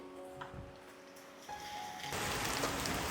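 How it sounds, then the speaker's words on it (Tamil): Sudden rain starts outside a home kitchen, with a soft patter that swells into a steady, loud downpour hiss, and no talking. "Now it is raining."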